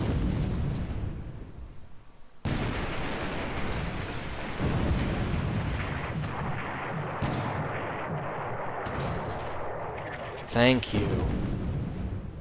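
Heavy naval gunfire at night in War in the Pacific, with the Japanese battleship Yamashiro engaged: a sustained rumbling barrage of booming shots, loud and continuous, with a sharp burst near the end, while a voice talks over it.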